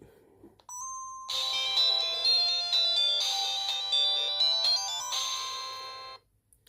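A Daewoo mobile phone plays its startup tone, a bright electronic melody of sustained beeping notes in a steady rhythmic sequence, loud and close, lasting several seconds before cutting off.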